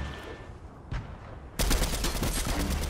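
Sustained burst of video game gunfire while shooting an enemy: after a quiet stretch with one faint shot, a loud, dense rattle of rapid shots starts abruptly and keeps going to the end.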